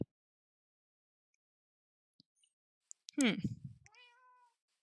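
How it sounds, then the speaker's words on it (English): A Minecraft cat gives a single clear meow after a few faint clicks, close and alone with no talk over it. "I love how the cat argues with me."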